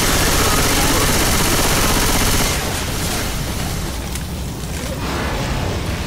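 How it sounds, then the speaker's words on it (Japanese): A pipe bomb exploding in the Left 4 Dead 2 video game, a loud dense burst of blasts and gunfire that roars for a couple of seconds and then fades into lingering rumbling noise. "先ほど投げたのは、パイプボム。 ここに敏感なゾンビを、大きな音で吹きつけ爆発する代物です。"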